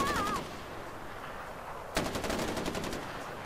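Gunfire erupts in Far Cry 4, rapid automatic bursts at the start, then a pause with quieter ambience before another sharp, rattling volley resumes and continues to the end.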